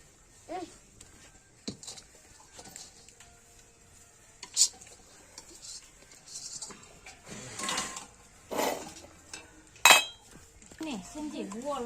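Utensil scrapes and clinks as sing pak, a peanut sweet mixture, gets spread flat in a tray, with scattered metallic knocks and rubbing at irregular intervals and a faint voice near the end.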